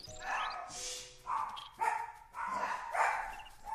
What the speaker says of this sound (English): there go the dogs again, every time someone walks by